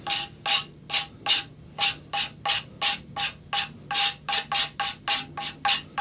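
Someone scrapes the body of a Les Paul Junior style guitar to fake relic wear, making a quick series of about twenty close, evenly spaced rasping strokes with short gaps between them.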